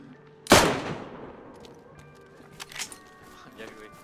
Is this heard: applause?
no